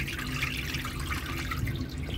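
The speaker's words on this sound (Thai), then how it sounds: "ซาวให้เอี่ยมนะซาวนะครับแล้วก็เทน้ำทิ้งนะครับ" Water is poured off soaked sticky rice, a continuous splashing, trickling wash of liquid at steady moderate level, close by and with no voices.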